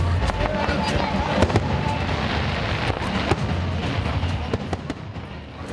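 A continuous barrage of fireworks bangs and crackles at an outdoor fire show in Carlisle, with sharp pops over a dense rumbling wash, loud and sustained.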